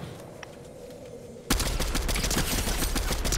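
Assault rifle fire in the video game Fortnite: after a quiet opening, a dense, loud burst of rapid shots erupts and keeps going to the end.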